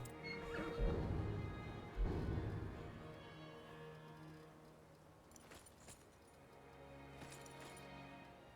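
A horse in Skyrim neighs and snorts twice in quick succession near the start, followed by softer hoof and clinking movement sounds at a moderate distance.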